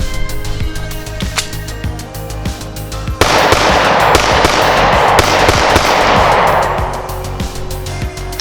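A Springfield Armory XD pistol fires steel-cased rounds in a string of sharp, close cracks, with a louder, sustained blast of noise partway through.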